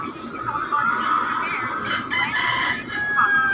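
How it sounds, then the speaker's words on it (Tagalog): Fighting cocks crow in drawn-out, overlapping calls with clucking from several birds, loud and close against a busy yard background. "Mga panabong."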